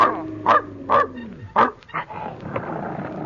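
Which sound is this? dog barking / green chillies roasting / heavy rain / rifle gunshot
dog barking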